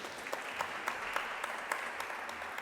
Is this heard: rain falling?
no